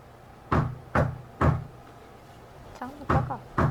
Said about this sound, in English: There's been someone knocking at my front door for the last 10 minutes or so, and they haven't stopped knocking